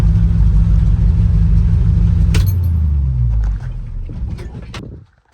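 The engine of a GMC 6500 sawmill yard truck rumbles loud and close at idle, then drops in level and cuts out as it is shut off, with a few small clicks near the end.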